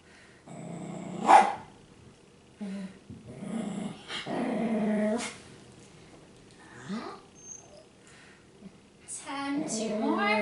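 A small dog barks and growls in short bursts during a home strength workout, wanting its toy thrown, heard near and loud at moments amid the trainer's ongoing talk.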